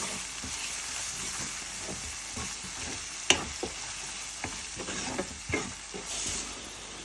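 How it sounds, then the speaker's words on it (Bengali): Ginger garlic paste with salt, turmeric, chili powder, cumin, coriander and garam masala sizzles in a pan, a steady frying hiss broken by stirring scrapes and a few sharp clicks, with no talk. "এই আদা রসুন পেস্টটাও আমি একটু সুন্দর করে ভেজে নেব"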